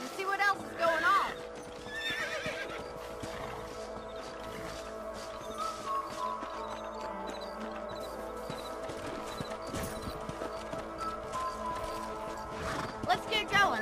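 Horses whinny and gallop in Red Dead Redemption, with a loud neigh at the start and near the end and steady hoofbeats between, under talk and game sounds.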